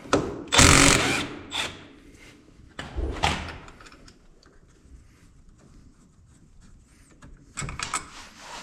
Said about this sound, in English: So there's these two 14mm bolts back here. We're gonna go ahead and remove both of those